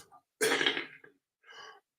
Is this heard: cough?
yes